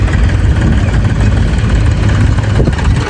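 A vehicle's engine runs while it is being driven, a loud, continuous low rumble and drone held throughout with no talking.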